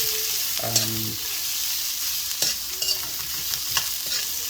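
Onions sauté in a pan for tinola, a constant hiss of frying with occasional scrapes and taps from stirring.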